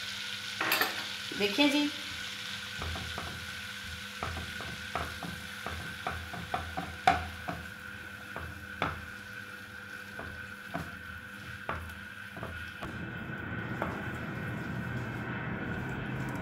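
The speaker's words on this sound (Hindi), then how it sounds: "तो इसमें अब मैं शामिल करूँगी मैदा और मैं एक बड़ी अच्छी सी स्लरी तैयार करूँगी, गाढ़ी सी।" Flour is stirred into melted butter in a pan, with the flame turned off, to form a thick slurry. A spoon scrapes in a steady, rhythmic run of soft strokes, and a voice speaks briefly near the start.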